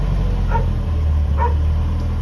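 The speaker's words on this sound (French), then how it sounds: "le chien fait plus de bruit que le camion" A dog barks twice in short bursts, fairly close, over the steady low rumble of an idling truck engine mounted under the seat.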